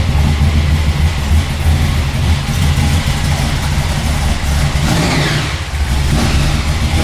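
A supercharged 496 big block Chevy V8 held at steady high revs near 3,000 rpm, a loud continuous heavy engine roar with a brief dip in pitch near the end.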